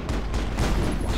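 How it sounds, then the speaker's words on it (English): Dense gunfire in the Mass Effect video game, a loud steady clatter of rapid shots and booms filling the short stretch, with no voices over it. "Press left mouse button, pop up and fire."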